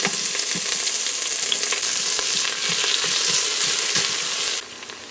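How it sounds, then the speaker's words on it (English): Onions frying in hot oil in an Instant Pot, a steady, loud, close crackling sizzle throughout, easing off slightly near the end. "So we're going to fry up our onions here"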